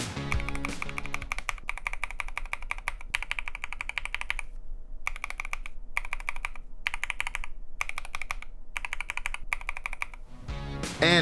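Keys on an Epomaker EP75 keyboard fitted with Flamingo switches clack in quick, dense bursts of typing separated by short pauses. The sound is close and crisp with no talk.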